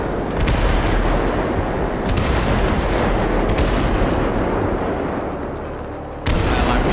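Fireworks explode in Grand Theft Auto V during a night drive, a dense, continuous roll of booms and crackling bursts, loud and sustained, briefly easing before a sharp new burst near the end.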